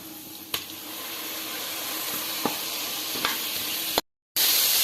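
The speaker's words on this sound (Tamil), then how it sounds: "இப்போ கட் பண்ணி வச்ச தக்காளியை சேர்த்து நல்லா வதக்கலாம்" Chopped tomatoes sautéing in a pan for veg pulao give a steady close sizzle, broken by a few sharp spoon scrapes and clicks, then a brief dropout before the frying resumes; no one speaks.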